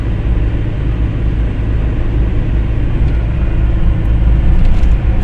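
The engine of a 1992 Geo Tracker climbs uphill in fifth gear at about 3,000 RPM, a steady, loud, close drone with road rumble and no pauses.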